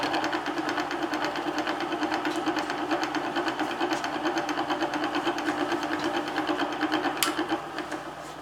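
A milling machine drives an end mill through metal in a steady, rapid, rhythmic chatter over a whirring motor. The cutting stays close and even throughout, then eases off slightly at the end.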